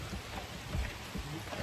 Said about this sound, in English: it is raining. Like hardcore raining